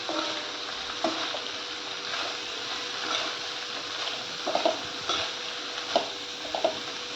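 Finely chopped cabbage being sautéed in a pan, a low continuous sizzle broken by periodic scraping stirs of a spoon, close up with no talking.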